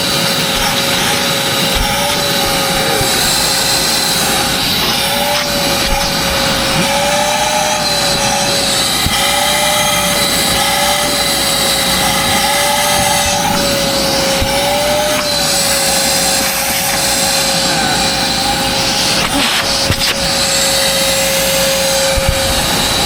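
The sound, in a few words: vacuum cleaner motor running during repair test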